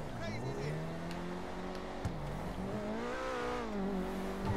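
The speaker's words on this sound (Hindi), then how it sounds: "गाड़ी का साउंड सुनो बस" An armored luxury car in GTA 5 drives with a steady engine drone, the pitch rising and falling as it revs, loud and continuous with no speech over it.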